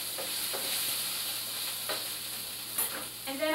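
Ginger paste frying in a pan for spinach curry gives a steady, soft sizzle, with a few quiet stirring scrapes and clinks over the hiss and no voices.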